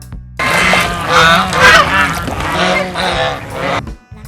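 Two domestic geese raised on a Bangladeshi village farm give loud, close, continuous nasal honking, rising and falling in strong overlapping calls for about four seconds with no talk.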